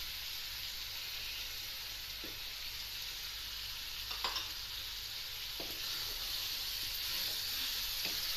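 Tomatoes and spices sizzle and fry steadily in a karahi for chicken karahi, a continuous loud hiss with a few soft stirring clinks near the pan.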